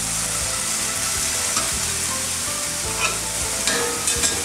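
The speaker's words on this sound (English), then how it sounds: "Sweet pepper and tomatoes, and just let those cook for about a minute." Sweet pepper and tomatoes sizzle steadily in a hot pan, a loud continuous frying hiss with occasional stirring scrapes and no talking.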